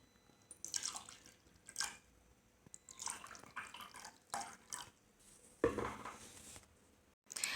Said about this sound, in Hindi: सबसे पहले मैं पानी इन दोनों ग्लास में ऐड कर लूँगी।